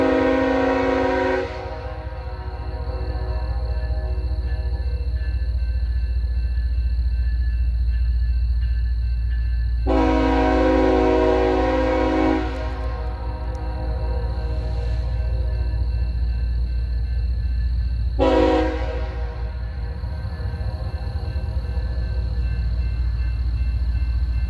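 An empty BNSF coal freight train rumbles past at a siding, its horn blowing in three long blasts over the steady low roar of the locomotives and cars.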